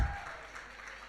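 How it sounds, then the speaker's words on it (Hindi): A church congregation claps in a brief burst of applause, a dense even patter that starts strong and settles slightly. "जोरदार तालियां।"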